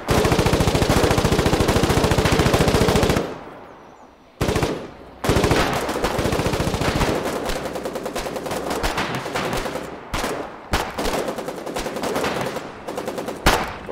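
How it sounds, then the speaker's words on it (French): Machine-gun fire in the war game Foxhole, a long rapid stream of loud, close shots, then a short lull, then more bursts and single cracks, with faint talk in the background. "je tire dessus"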